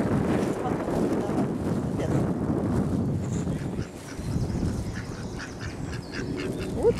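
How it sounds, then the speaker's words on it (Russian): Ducks quack repeatedly in a noisy outdoor setting, mixed with wind buffeting the microphone and some nearby voices. "Уточки кря, кря, кря, говорят."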